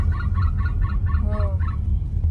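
A rapid series of rhythmic, cackling bird calls rises in quick bursts, sounding almost like laughter over a low background rumble.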